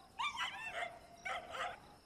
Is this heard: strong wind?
no